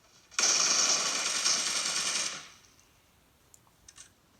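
A burst of automatic gunfire from PUBG Mobile rattles loudly for about two seconds before cutting off, leaving faint in-game clicks and ticks afterward.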